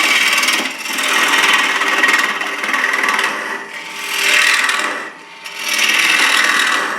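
A turning tool scrapes and cuts a wooden goblet on a lathe, taking it down to the waste wood, in long rasping passes that swell and fade with short pauses between them.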